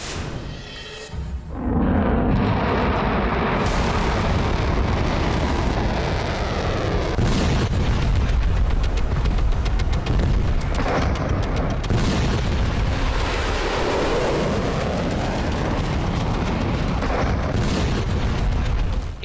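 Missile and bomb attacks in the Iran–Israel war produce loud, heavy explosions. After a brief quieter opening, a deep, rumbling roar of blasts continues almost unbroken for the rest of the clip.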